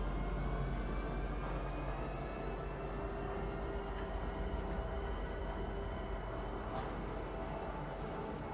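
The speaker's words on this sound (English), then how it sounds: "Ooh, the tram actually looks like it's working." In the Star Citizen video game, a tram moves with a steady, continuous low rumble and a faint tonal whine, with a couple of soft clicks along the way.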